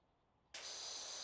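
A pressure washer in PowerWash Simulator starts abruptly after near silence, then holds a loud, steady hissing spray to the end.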